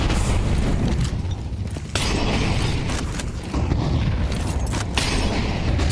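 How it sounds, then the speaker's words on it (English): Grenade blasts in a professional Counter-Strike match between FlyQuest and FaZe: loud, dense booming bursts with rumbling debris and mechanical clatter filling the whole stretch, with no talking. "more nade damage for FaZe to have to stomach."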